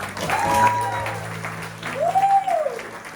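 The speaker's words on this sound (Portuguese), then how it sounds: "Vamos aplaudir o Senhor." A church congregation at a retreat claps in applause, the clapping continuing while voices rise above it with sustained, sliding vocal calls.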